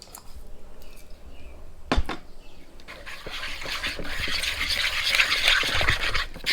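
Icing thinned with cherry syrup is stirred briskly in a bowl at a campsite, producing a steady wet scraping and clinking that grows denser toward the end, with a single sharp knock partway through.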